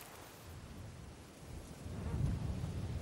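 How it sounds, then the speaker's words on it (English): Rumbling thunder and a storm building in the video game A Plague Tale: Requiem, a steady low roar that swells louder toward the end, with no voices over it. "Plus, there's a storm coming."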